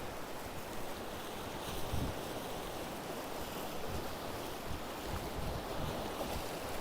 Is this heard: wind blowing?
yes